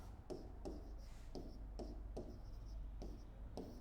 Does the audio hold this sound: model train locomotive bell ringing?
no